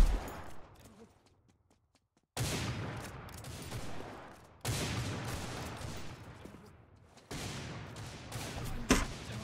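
Bursts of rapid gunfire from a free first-person shooter, sniper-heavy match, arriving in three loud volleys separated by short pauses, with a sharp single crack near the end.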